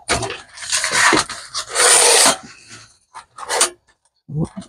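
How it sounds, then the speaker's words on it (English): Small wire brush scrubbing a metal part from a SEGA Genesis console, harsh raspy strokes in short bursts with pauses, close and fairly loud. "little wire brush will take that off."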